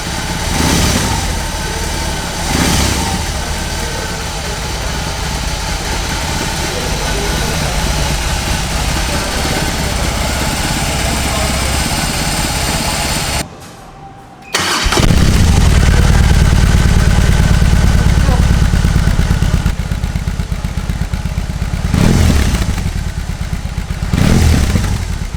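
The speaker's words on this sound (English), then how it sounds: "Rev it a bit." A BMW R-18 motorcycle engine running loud and close, with a deep throbbing idle that drops out briefly, then returns as a heavier, fuller rev before easing back and swelling again.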